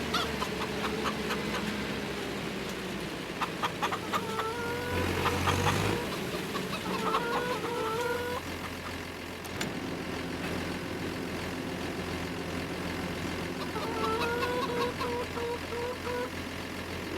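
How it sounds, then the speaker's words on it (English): Chickens cluck and squawk in Farming Simulator 25, a farm game, with repeated short calls over a steady engine and vehicle rumble that runs throughout. "Let's get this over to our chickens."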